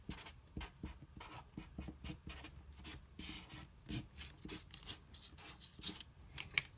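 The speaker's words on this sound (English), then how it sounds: "let me just write that into the answer section here" A pen writes on paper while a calculus problem's answer is filled in, giving quick scratchy strokes in an uneven stream of short ticks and scrapes, close and quiet with no speech.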